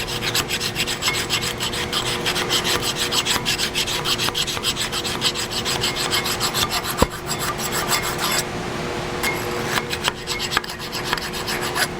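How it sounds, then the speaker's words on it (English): A hand file rasps rust buildup off a brake caliper bracket on a Toyota Tacoma or Tundra, giving steady rhythmic back-and-forth scraping strokes, close and fairly loud, with no talk throughout. "file out a lot of that rust buildup"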